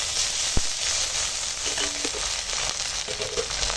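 Ginger garlic paste dropped into onions and green chillies frying in hot oil, a close continuous sizzle with a sharp knock near the start and light stirring scrapes.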